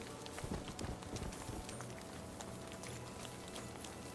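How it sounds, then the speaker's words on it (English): Horse hooves clip-clopping in the medieval game Kingdom Come Deliverance 2, a quick uneven run of hoofbeats early on that fades into a steady ambient outdoor background. "I just heard a horse, I thought."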